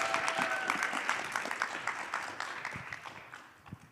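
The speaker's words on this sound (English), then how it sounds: "Y'all start clapping for Sammy now." Audience at a poetry slam claps for a performer coming up, a dense, steady patter of many hands that thins out and fades toward the end, with a few scattered late claps.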